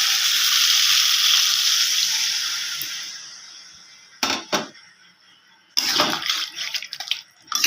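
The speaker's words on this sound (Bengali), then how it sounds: "তরকারিটা ভালোভাবে ভাজা হয়ে গেছে এবার আমি পরিমাণ মতন জল দিয়ে দিচ্ছি" Water poured into a vegetable curry frying in a pan, a loud rushing hiss that fades away, followed by short bursts of bubbling and sizzling close by.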